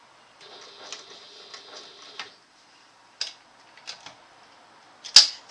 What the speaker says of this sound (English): I'm just going to sew over it